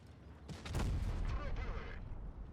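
A loud burst of gunfire-like booms from the tank game World of Tanks Blitz, an E 75 tank cannon shot with a sharp blast followed by rumbling impact noise, with faint voice underneath.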